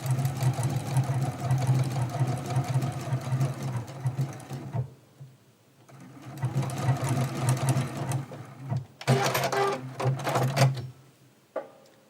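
A sewing machine runs a blanket stitch on a quilt in rapid mechanical bursts, stopping briefly twice between runs of stitching, with a few sharper clicks near the end.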